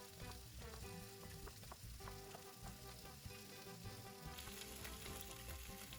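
Pork cracklings fry in a pan with a steady crackling sizzle, dense and continuous, heard up close at a low level.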